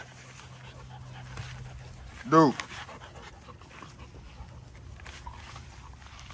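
A dog pants softly throughout and lets out one brief rising whimper. Someone talks over it.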